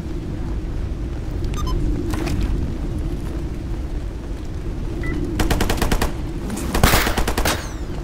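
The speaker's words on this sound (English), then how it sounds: "they're shooting at me" Enemy gunfire in Stalker GAMMA during a Monolith ambush: scattered shots, then rapid bursts of automatic fire that swell into a dense, loud volley near the end over a steady low rumble of the game world.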